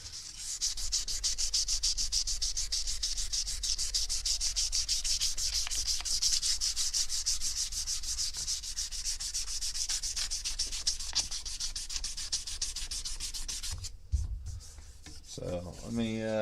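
Rapid, steady back-and-forth sanding of a knife handle with wax, close and continuous, with rubbing strokes that briefly pause and change near the end.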